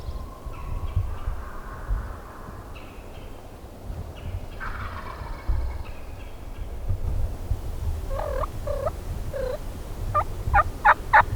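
Wild turkey gobbler on public land in Mississippi, gobbling several times from a moderate distance, with rapid rattling bursts in the second half over steady outdoor ambience.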